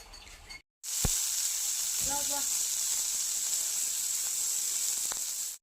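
A steady, close sizzle of bitter gourd frying in hot oil, with a few brief clicks and a faint voice.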